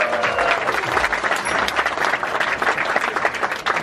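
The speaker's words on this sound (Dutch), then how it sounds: "Jeroen, mag ik een hartelijk applaus voor Jeroen Kijk in de vechten?" Audience applause with lively, close clapping that stays steady and fairly loud throughout, with a few faint voices in the crowd.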